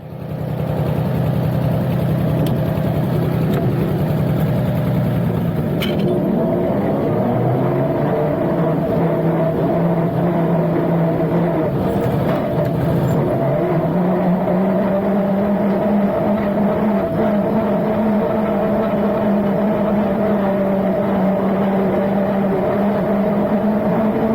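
Farmall F20 tractor engine running close and loud, a steady low rumble that dips around the middle and then settles into an even idle, missing at idle, no speech.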